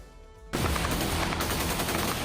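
Loud, dense gunfire from the Israeli army in Gaza erupts after half a second of quiet, a sustained rattling burst of shots that fills the rest of the moment with no speech.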